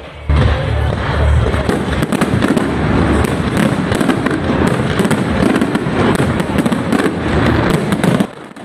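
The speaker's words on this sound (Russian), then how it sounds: "Завершился день ярким салютом." A festive city fireworks display ends a day of celebrations, with continuous dense crackling and booming bursts that go on loudly for several seconds.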